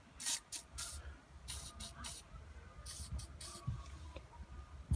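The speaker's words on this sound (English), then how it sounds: "You're going to want to spray into all of the plastic elements where the brake pin runs through" Several short bursts of aerosol lubricant spray hiss in quick succession into the plastic brake parts of a Baby Jogger City Mini stroller, close up, with faint handling noises and rustling between the sprays.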